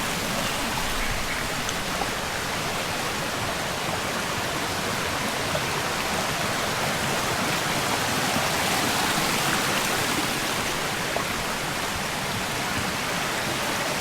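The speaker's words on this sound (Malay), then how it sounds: "Jumpa anak sungai yang kedua" Small mountain stream on a jungle hiking trail flowing steadily, a broad, even rush of water close by that holds at a constant level throughout with no other sounds standing out.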